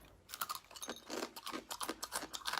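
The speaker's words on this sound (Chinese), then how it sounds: "今天换口味，吃点这个大黑蝎子。" Close, crackly crunching of a big black scorpion being bitten and chewed, with quick irregular brittle snaps and crackles bunched tightly together and no voice.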